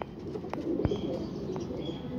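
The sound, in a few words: pigeons cooing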